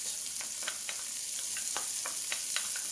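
Minced garlic and chopped onion sizzle in a pan with a bright steady hiss, broken by light repeated stirring scrapes and taps, close and with no voices.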